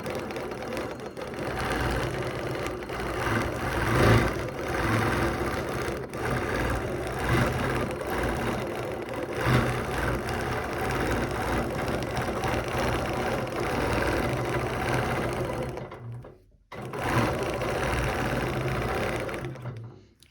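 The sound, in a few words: sewing machine stitching rows of fabric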